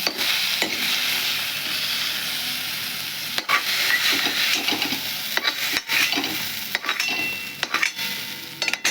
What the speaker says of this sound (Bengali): ভেজে নিই, ভেজে তুলব। অনেকটা ভালো ফ্রাই হয়ে গেছে